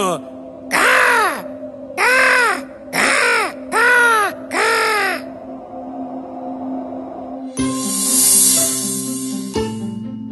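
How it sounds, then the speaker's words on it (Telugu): An animated crow in a children's fable about a thirsty crow caws five times in a loud, evenly spaced series of harsh calls, followed by a brighter musical flourish. "ఈ నీళ్లు తాజాగా ఉన్నాయి ఇప్పుడు నేను అరవగలను"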